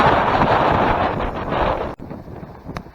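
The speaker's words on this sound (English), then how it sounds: "Really windy." Strong wind buffets on a hiking trail at Stenner Creek near San Luis Obispo, California, a loud, rushing roar that suddenly drops to a softer gusting near the end.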